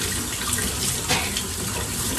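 Tap water runs steadily into a sink while potatoes are washed and scrubbed with the skins left on, a continuous close hiss with no talking.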